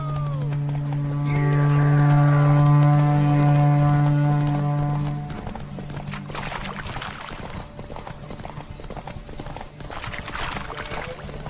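Horse hooves clip-clopping in The Witcher 3 during a pony race, a steady rhythmic trot under a loud sustained tone that fades after about five seconds, leaving the hoofbeats alone.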